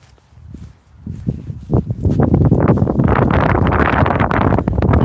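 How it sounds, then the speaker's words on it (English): Wind buffeting the microphone at Rye Harbour nature reserve, starting gentle with a few gusts and then building into loud, continuous roaring rumble close to the mic. "A bit windy out there today."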